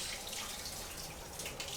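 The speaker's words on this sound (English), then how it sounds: "Let's go ahead and drain the water out of those." Water pouring off cooled Brussels sprouts through a kitchen strainer, a steady close splashing rush with no talk.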